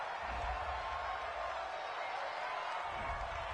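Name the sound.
home crowd cheering in a football video game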